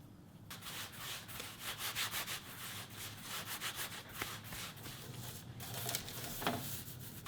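Rolling pin pressed back and forth over bun dough for kimchi pork buns, rolled out to a round about 6 inches across, making a steady soft rubbing, scraping sound in repeated strokes, close and alone.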